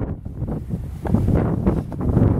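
Strong wind buffets the microphone outdoors on an exposed shore near the old Stalin Line border area, with a continuous low roar and churning waves beneath, swelling louder in gusts.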